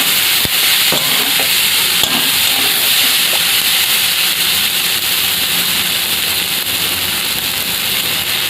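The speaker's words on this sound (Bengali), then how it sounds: "এর মধ্যে আমি সেদ্ধ করে রাখা ছোলা আলুটা দিয়ে দেবো। হালকা নেড়ে চেড়ে নেবো।" Boiled chickpeas and potato are stirred in a frying pan for a Bengali chickpea bhuna, a steady broadband sizzle and hiss running throughout with a few soft scrapes of the spoon, close and fairly loud, no talking.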